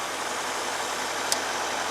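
Mercedes-Benz S-Class engine idling, a steady, even hum with a constant broadband rumble throughout and one brief faint tick midway.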